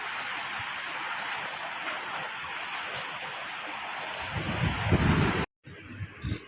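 Dense, steady roar of heavy rain pouring down during a storm in Delhi, swelling with a deeper rumbling gust toward the end before a brief cutoff.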